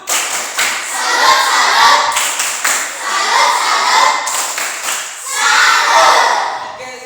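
A group of people in a classroom claps out a rhythmic salute pattern, bursts of crisp hand claps and thumps in repeating phrases, close and loud.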